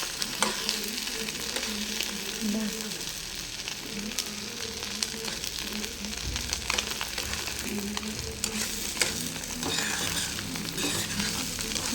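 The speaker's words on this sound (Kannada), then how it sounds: "ಎಣ್ಣೆ ಎಲ್ಲ ಹಿಂಗೆ ಬುರುಕ್ ಹೋಗ್ತೈತ್ರಿ ಅದು. ಫ್ರೈ ಆಗುತ್ತೆ." Sheep head and trotters fry in bubbling oil for a mutton sambar, a dense, steady crackling sizzle close up, with occasional spoon scrapes and stirring, no talk.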